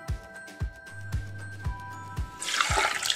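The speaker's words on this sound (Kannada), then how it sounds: "ಸೊ ಇವಾಗ ಇದೆರಡು ಫಿಲ್ಟರ್ ಮಾಡ್ಕೊಳ್ತೀನಿ." Cooked dal and tomato water poured through a strainer for rasam, splashing and trickling steadily, with a few soft knocks of the vessel and a louder rush of liquid toward the end.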